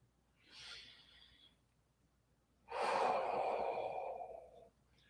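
Slow, audible breaths during a calm movement practice for golfers, a soft inhale followed after a pause by a longer, louder exhale, close to the microphone.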